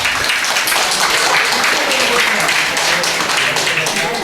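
Students at a school reunion clap loudly for their former teachers. The applause is a dense, steady wash of many hands, continuous and even for several seconds, with crowd noise mixed into it.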